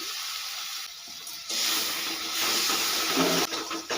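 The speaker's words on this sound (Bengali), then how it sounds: "মশলাগুলোকে কষানোর জন্য সামান্য পরিমাণ জল দিয়ে দিলাম" Water poured into frying spice paste for a pumpkin curry sets off a loud burst of steamy hiss and sizzle that swells and keeps going, with no one speaking.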